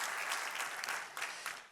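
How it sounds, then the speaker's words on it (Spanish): Church congregation at a Spanish-language sermon breaks into steady applause, a dense wash of many hands clapping at a moderate distance, fairly quiet throughout the short stretch. "Dale un aplauso, por favor."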